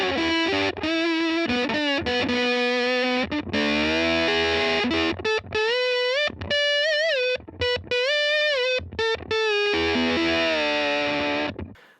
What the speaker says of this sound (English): the distortion, I think, is so heavy that it can take your guitar from a guitar sound to more of an unnatural synthesizer sound